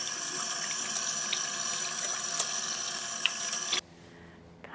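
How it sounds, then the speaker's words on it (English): Tap water pours steadily into a sink during handwashing, a close, continuous hiss and splash that stops abruptly near the end, with no voices. "I'm gonna have to wash my hands real quick."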